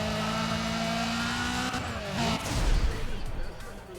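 Nissan Silvia 240SX engine in the racing video game Need for Speed ProStreet, revving hard with a steady high drone, then a shift and a rough, louder burst of engine noise with tire scrub, close and continuous.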